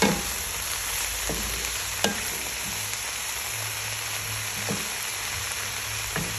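Tomatoes fry with a steady broadband sizzle in a hot pan, stirred a few times with sharp scraping clicks against the metal, a low hum underneath throughout.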